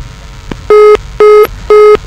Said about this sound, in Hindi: फोन डिस्कनेक्ट भ चुकल है